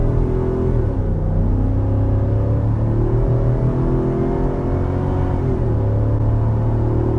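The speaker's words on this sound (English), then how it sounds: "This is full throttle." A 2020 Ford F-250 Tremor pickup with the 7.3L V8 accelerates at full throttle, its deep steady engine drone climbing in pitch through several gear shifts, close and continuous.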